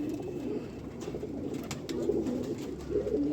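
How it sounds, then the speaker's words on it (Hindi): A Kalpara pigeon coos in low, throaty rolling phrases close by, repeating several times in a short stretch with no talking. "कलपरा कबूतर है जी पूरा"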